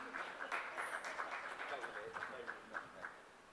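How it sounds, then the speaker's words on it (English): An audience at a corporate sustainability summit in Delhi gives a round of applause for a Union Cabinet Minister, moderately distant clapping sustained throughout, with voices mixed in. "Huge round of applause, ladies and gentlemen"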